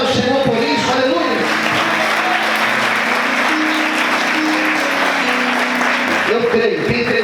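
Congregation applauding during a church sermon, loud, sustained clapping filling the whole stretch with a dense crowd texture, tapering near the end as voices and music return.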